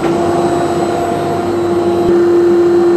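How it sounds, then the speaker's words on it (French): A workshop vacuum hooked up to a Holzprofi PB560 machine runs at full power, making a loud, steady, close whine with a strong constant tone and a rushing roar under it, with no voices. "Donc, mon aspirateur est lancé."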